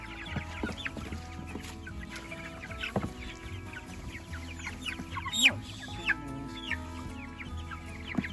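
Chickens cluck and chatter continuously at close range, with scattered sharper squawks over a busy, low background hum.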